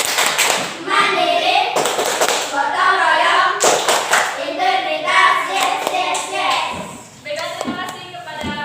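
A primary school class in Indonesia stands and performs a duck clap chant, rhythmic bursts of hand claps mixed with children's voices chanting loudly and close throughout.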